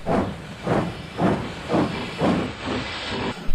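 A steam locomotive chuffs in a steady rhythm, about seven loud hissing puffs at roughly half-second intervals, close and alone.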